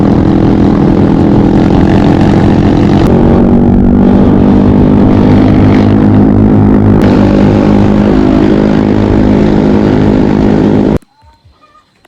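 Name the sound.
motorcycle riding on the road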